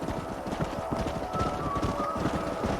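Steady clip-clop of horse hooves trotting in the video game Red Dead Redemption, a dense rhythmic clatter with a faint tonal whine and some activity in the background.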